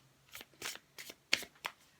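A deck of Mucha tarot cards being shuffled, several short crisp riffling bursts at an uneven rhythm, close and quiet with no talking.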